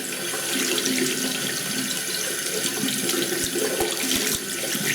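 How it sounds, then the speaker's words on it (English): Cold water runs steadily from a tap into a shaving brush and sink, a continuous close splashing hiss with a few faint knocks near the end. "Just let the water run into it"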